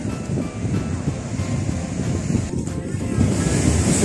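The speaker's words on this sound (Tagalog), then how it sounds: "Gusto ko makuhanan yung pinakamalakas na hampas ng alon." Ocean waves crash and surge on a long beach under gusting wind buffeting the microphone, a loud rolling roar that swells again toward the end.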